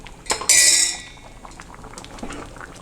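A pot of sambar is moved toward a silver vessel, with a sharp metallic clink and ringing of pots near the start, then faint liquid and handling noises.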